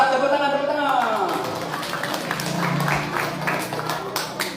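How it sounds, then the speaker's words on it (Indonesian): At a community gathering in a madrasa hall to welcome Ramadan, a voice speaks briefly before a round of clapping begins. The applause is moderate and somewhat scattered, and murmuring continues beneath it. "Tepuk tangan, tepuk tangan."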